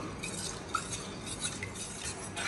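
A spoon keeps stirring thick gram flour (besan) batter for patode in a metal pot, giving a continuous close scraping and sloshing with occasional light clinks of utensil on the rim, steady throughout and without any voices.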